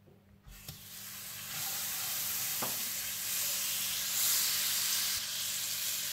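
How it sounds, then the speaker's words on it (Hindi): Butter heats in a pan for a beef burger sauce, giving a steady, close, broadband sizzle and hiss that swells slightly and holds continuously, with a couple of faint clicks and no talking. "इसका सॉस बनाने के लिए आप मक्खन गर्म कर लीजिए"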